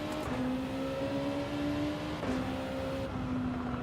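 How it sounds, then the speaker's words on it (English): Tires squealing in the racing game Gran Turismo 7, a steady high-pitched screech sustained over a continuous engine drone, loud and close throughout. "I can hear the tires screeching."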